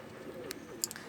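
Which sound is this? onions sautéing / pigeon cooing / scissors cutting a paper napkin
pigeon cooing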